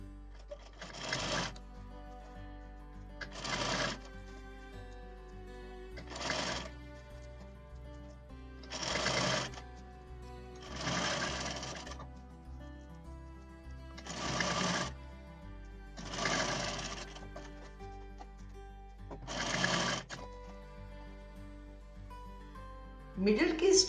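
An electric sewing machine stitches kurti fabric in repeated short bursts of rapid whirring, roughly eight separate runs spaced a few seconds apart, with quiet pauses between them.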